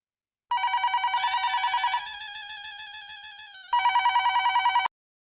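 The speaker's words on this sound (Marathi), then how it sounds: "फोन वाजला." A telephone rings close by with loud, steady electronic trilling tones that pulse rhythmically for about four seconds and then stop abruptly, with no other sounds around it.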